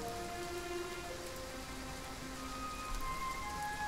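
Heavy rain pours steadily for several seconds, a dense, even hiss of downpour in a period drama scene, with faint tones lingering underneath.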